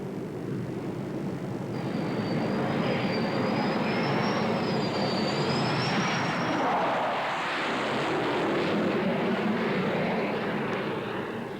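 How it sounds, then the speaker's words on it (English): A4 Skyhawk jets fly touch-and-go practice on the aircraft carrier HMAS Melbourne at sea in 1981, a loud, sustained jet engine roar with a rising whine that holds for about twelve seconds, with no voices. "The A4 Skyhawks practice touch and go to keep what's termed the state-of-the-art alive."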